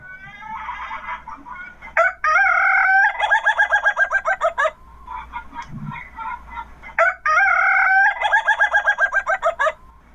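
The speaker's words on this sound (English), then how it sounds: "we wanted you to have the opportunity to hear the laughing chicken." Ayam Ketawa laughing chicken crowing alone and close, two long bursts of rapid staccato cackling calls that rise and fall in a laugh-like rhythm, separated by quieter clucking and soft background rustle.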